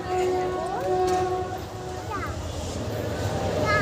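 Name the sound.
train passing by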